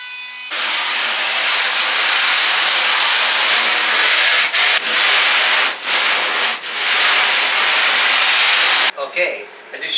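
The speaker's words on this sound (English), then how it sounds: "I used the planer a bit." Electric power planer shaving foam while shaping a surfboard, a loud continuous hissing roar close up for about nine seconds with a few brief dips, then cutting off into quieter handling noise.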